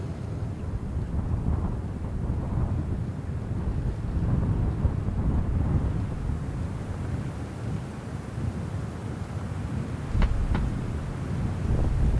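Strong north wind blowing outdoors at a winter campsite in temperatures well below -20, a steady low roaring rumble buffeting the microphone throughout, with no talking.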